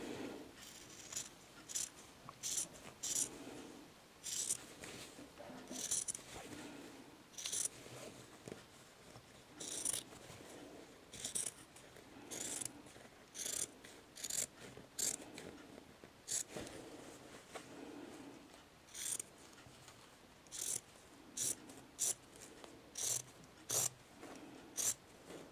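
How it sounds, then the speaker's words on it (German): Scissors snip through fabric along a marked line, about twenty quiet, rhythmic cuts with short pauses between them, faint and close, heard alone without talk. "Und das schneiden wir jetzt an der Linie ab"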